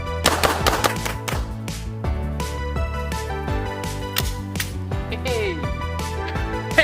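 A Glock 17 Gen 5 French edition pistol is fired rapidly, a dense string of sharp, loud shots cracking close by in quick succession over several seconds.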